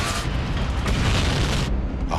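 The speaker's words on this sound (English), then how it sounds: "An explosion rocks the British Petroleum Oil Refinery in Texas City." A massive explosion at the BP oil refinery in Texas City: a loud, sustained rumbling boom filling the whole two seconds, heavy low roar with broadband blast noise, then an abrupt cutoff near the end.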